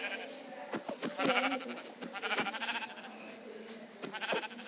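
Goats bleat repeatedly at close range, several wavering calls overlapping in quick succession, moderately loud with some quieter gaps between.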